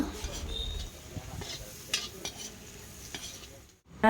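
Spices with turmeric and salt fry gently in a pan while being stirred, with soft sizzling broken by scraping utensil strokes and scattered clinks, fairly quiet and irregular.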